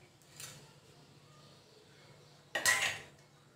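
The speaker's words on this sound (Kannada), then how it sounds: "ಸೊ ಪ್ಯಾನ್ ಇಟ್ಕೊಂಡಿದ್ದೀನಿ" A pan is set down on the stove for making chapatti: a faint clink early on, then a single sharper metallic clank, close by in an otherwise quiet kitchen.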